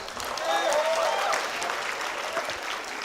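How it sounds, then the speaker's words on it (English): Steady applause from an audience at a university graduation convocation as graduates' names are read out, with faint voices mixed into the dense clapping. "come on guys, keep clapping here"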